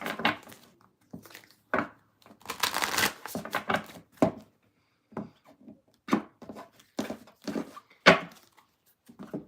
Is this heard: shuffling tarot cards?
yes